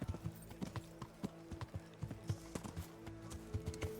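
Horse hooves clip-clop in a steady, uneven walking rhythm in the medieval game Kingdom Come Deliverance, close and moderately loud with no talking over them.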